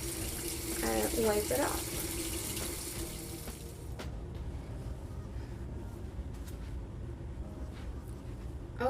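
Water runs steadily from a tap while a washcloth or makeup remover wipe is wetted, a continuous broadband hiss lasting the whole time, with a brief spoken comment near the start.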